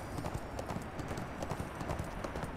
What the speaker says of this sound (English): Horse, go!